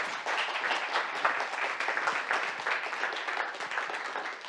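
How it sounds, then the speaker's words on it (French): Sustained applause from a conference audience after a talk on Europe and AI, dense steady clapping throughout, moderately loud and even. "On applaudit encore"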